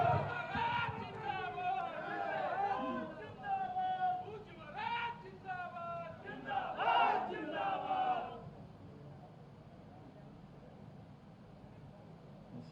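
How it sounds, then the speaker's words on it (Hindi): A crowd at a political inauguration of a gas station, CNG station and oxygen plants in Khanipur shouts and cheers loudly in unison for about eight seconds, then falls back to a quiet murmur. "एक बार जोरदार तालियों के माध्यम से अभिनंदन, वंदन,"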